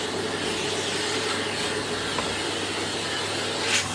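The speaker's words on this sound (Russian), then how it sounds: "С пылесосом." Steady broadband vacuum cleaner roar, used alongside a drill while a kitchen countertop is cut for a stove, running continuously and fairly loud with a faint brief rise near the end.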